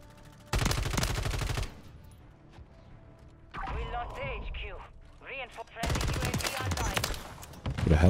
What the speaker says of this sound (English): Who the hell shot at me?